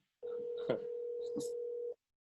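A phone call rings out on the line as one long, steady electronic tone lasting under two seconds, fairly quiet and clean, with faint clicks partway through.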